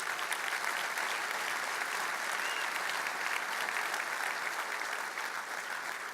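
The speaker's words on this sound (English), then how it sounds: "Who wants to give a round of applause for your SC or SREs?" A conference keynote audience breaks into sustained applause, a dense wash of clapping from a large crowd heard from a distance, steady and fairly soft throughout.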